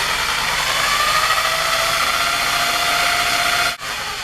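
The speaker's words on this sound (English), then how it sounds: "then I can make the drill a little bit faster." Electric drill running steadily as it mixes ceramic glaze, a continuous loud motor whine close by with a brief dip near the end and no talking.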